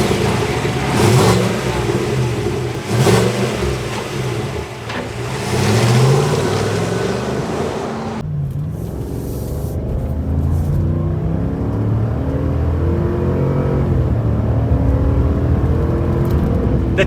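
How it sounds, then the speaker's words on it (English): A 2021 Chevrolet Tahoe High Country's naturally aspirated V8 revs and accelerates, loud and close, then drops to a steadier cruising hum as the SUV keeps driving. "There isn't any lag because of its naturally aspirated V8 engine"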